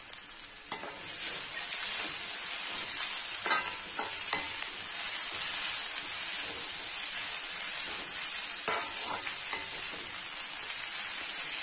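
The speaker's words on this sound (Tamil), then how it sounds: "இந்த வெங்காயம் எல்லாம் நல்லா வதங்கி ஒரு கோல்டன் ப்ரௌன் கலர் வர்ற வரைக்கும் இதை வணக்கிக்கணும்." Sliced onions and green chillies sautéing in a pan for Tamil chicken varuval, a steady close sizzle and hiss with occasional stirring scrapes and pops, no voices.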